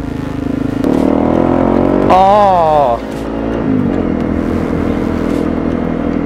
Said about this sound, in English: Yeah, I love that exhaust. FMF, I believe.